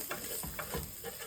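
Food frying in a pan in a Kerala-style home kitchen, stirred steadily under a constant sizzle, with soft repeated scraping strokes about twice a second.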